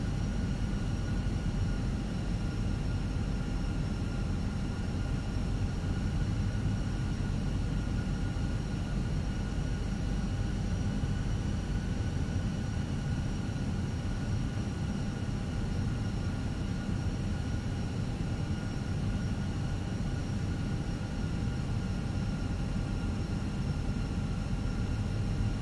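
Airbus A320 in Microsoft Flight Simulator 2020, a constant low engine drone with steady whining tones, held evenly and without voices.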